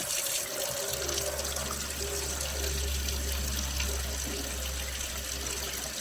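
Hot water runs from a tap fed by a newly installed electric water heater on well water, making a constant, close, hissing stream that stays even from start to finish.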